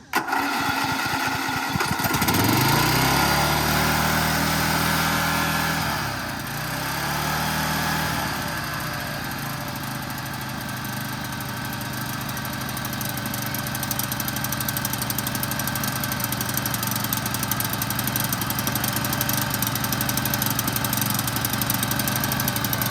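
A Toro zero-turn mower engine runs continuously nearby with a loud, steady drone. It sags briefly under load early on, then settles back into an even, vibrating idle with no voices.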